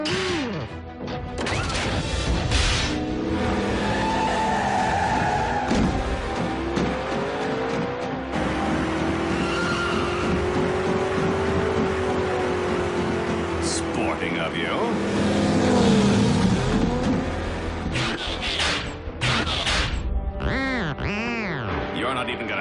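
Animated car chase between Bumblebee and a rival vehicle, with revving engines, crashes and tire squeals under excited cartoon dialogue and music throughout.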